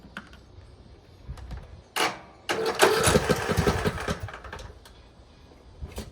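An abandoned lawn mower is pull-started: a sharp cord yank, then a brief rough engine burst lasting about two seconds that sputters and fades without settling into a steady idle.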